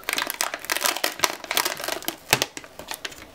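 Plastic clips being slowly peeled and pried off an Elo Touch ET1537L touch monitor, giving a dense run of crinkling, crackling snaps and taps close up, with no talking.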